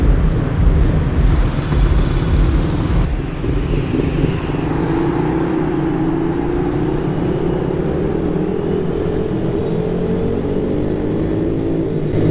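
Mini motorcycles at the start of a race, several small engines droning and revving together loudly and steadily, with a rising whine as they pull away.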